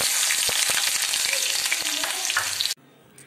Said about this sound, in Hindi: तो फ्रेंड्स यहाँ पे हमारा प्याज जो है गोल्डन ब्राउन हो गया है।